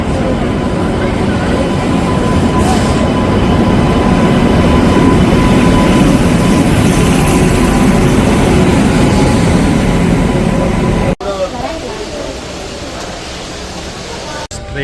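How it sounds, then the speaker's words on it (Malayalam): A passenger train rolls into a station, a loud sustained low rumble and clatter of wheels on track that runs for several seconds before cutting away to quieter station ambience, with people talking in the background. "സോ 3:45 നമ്മുടെ ട്രെയിൻ വന്നു."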